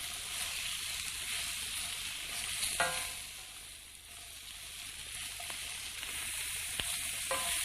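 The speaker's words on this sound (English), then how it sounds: "move them around in the heat and cook them for about 5 minutes until they've got nice sort of brown toasted edges" Ingredients sizzle steadily in a hot pan while being stirred until their edges turn brown and toasted, with a constant frying hiss broken by occasional scraping clicks of the spoon and no talk.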